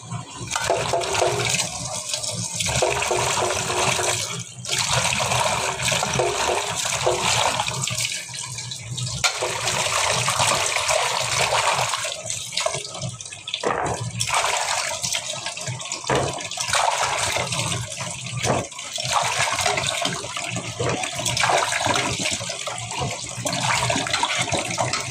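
Water runs steadily from a tap while potatoes are washed, a continuous loud splashing stream with small shifts as the potatoes are handled under it.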